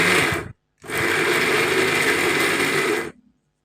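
A kitchen blender pulses to coarsely chop spices for ayam betutu, a short whirring burst, a brief pause, then a steady loud motor whir of about two seconds that cuts off, close and alone.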